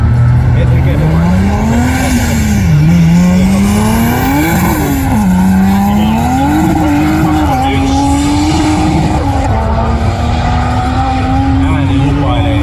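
Turbocharged petrol race car number 13 launching at a BMW meet, its loud engine note climbing and dropping through rapid gear changes, then holding a steady high-pitched wail as it accelerates away, with faint tyre noise underneath.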